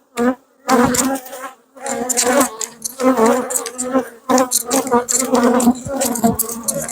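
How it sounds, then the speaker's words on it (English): Dense honeybee buzzing fills a close hive inspection, a loud continuous drone that wavers in pitch with brief gaps as bees fly near. "These bees have so much population, they're going to be fine"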